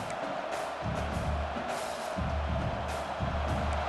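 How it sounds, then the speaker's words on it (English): A large crowd roars steadily at a distance, a continuous wash of cheering and noise with swells every second or so. "Listen to the crowd energy here in the early going."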